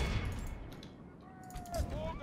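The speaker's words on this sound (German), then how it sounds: "Ja, jetzt schießen die." Units firing in the Third Age Total War strategy game, a short burst of distant shots under German speech.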